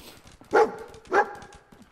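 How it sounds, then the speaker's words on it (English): The companion dog from Fallout 4 barks twice in a video game, two loud sharp yips about half a second apart over quiet ambient game sound. "Yes, this is my buddy Dog Meat."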